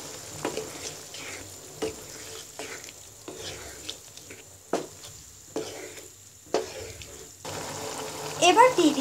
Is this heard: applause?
no